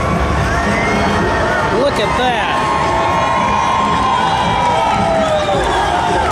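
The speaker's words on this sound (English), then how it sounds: "And the crowd goes wild." A crowd on a large cruise ship's deck cheers and whoops as the ship squeezes under a bridge, a loud continuous roar of shouting and whistling voices with a person speaking close by.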